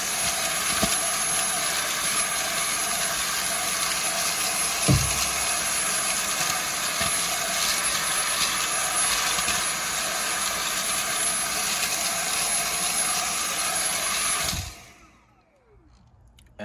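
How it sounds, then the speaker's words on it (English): A Dyson V7 handheld vacuum cleaner, a cordless model set up for cars and boats, runs with a steady, loud, high-pitched whine for about fifteen seconds before cutting off abruptly, leaving near silence. "It's a Dyson V7 for cars and boats."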